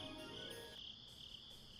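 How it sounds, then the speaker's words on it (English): Crickets chirp at night on a porch in a continuous, high, steady trill. It stays faint and even throughout with no voices. "I guess we could just take the music out and just have crickets."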